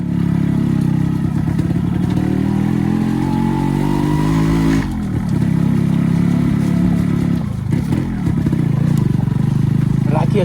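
A Yamaha RX motorcycle labouring in first gear off-road, its engine revving loudly and continuously with rising and falling pitch and clattering mechanical noise, close to the listener throughout.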